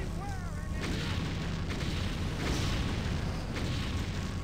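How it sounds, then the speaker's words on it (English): Explosives go off in the stealth video game Thief, a continuous rumbling barrage of booms and blasts with a swooping tone near the start and no pause in the heavy noise. "if they're shooting all those explosives, you really shouldn't stand so close to it, mate"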